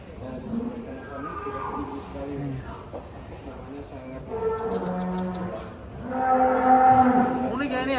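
A large Brahman contest bull on a cattle farm moos in several drawn-out, low calls, with people talking nearby and other livestock sounds in the background.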